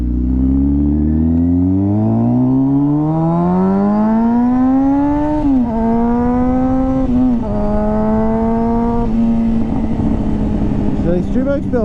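A street motorcycle on the road winds its engine up through the gears, with a loud rising whine, short dips at each shift and then a steadier cruising drone close to the rider.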